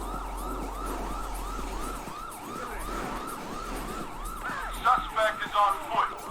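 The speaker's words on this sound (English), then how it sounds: "Turn this siren off." A police siren in the video game GTA 5 wails, rising and falling in steady repeated sweeps, fairly loud, then cuts off into a few short clunks and knocks near the end.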